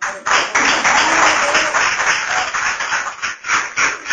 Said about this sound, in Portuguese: Palmas para o Senhor Jesus.